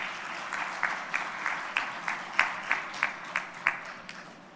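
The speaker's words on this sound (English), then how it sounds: "Thank you very much for having applauded for this brilliant explanation" A conference audience at a plenary session on climate-resilient sanitation applauds after a presentation, a steady moderate wash of clapping with a dozen sharper accented claps standing out, somewhat distant and with no talking.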